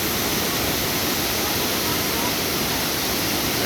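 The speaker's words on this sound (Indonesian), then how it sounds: "Air terjun Dua Unduk" Dua Unduk waterfall near the Cidahu dam camp: a dense, steady roar of falling water that fills the scene without pause, loud and close.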